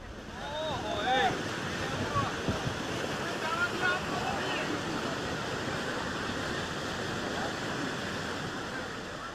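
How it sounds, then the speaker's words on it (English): Water from the Narmada pipeline gushes into the Aji Dam in a wild fountain-like spray, a steady broad roar with no pauses, moderately loud, with a few faint bird-like chirps early on. "Water travels against gravity to fill the Aji Dam, producing this wild fountain-like effect."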